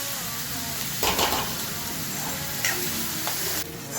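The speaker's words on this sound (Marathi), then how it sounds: "असा चांगला तळून घ्यायचा कांदा." Onion frying in a pan until reddish-brown for eggplant masala, a steady sizzle with occasional stirring scrapes and utensil clinks.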